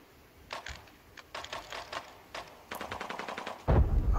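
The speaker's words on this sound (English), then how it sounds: "Where are they shooting from?" Gunfire in the Arena Breakout mobile shooter game: bursts of rapid automatic shots crackle through the clip, loudest and densest toward the end, with no talking.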